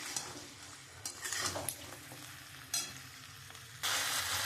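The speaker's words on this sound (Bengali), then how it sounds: "এবার আমি মাংসটা দিয়ে দেবো। দিয়ে আমি একটু খুব ভালো করে নাড়বো।" Chicken pieces sizzle in a pan for chilli chicken while a spoon stirs and scrapes, with intermittent metallic clinks and a loud burst of frying near the end, close by with no talking.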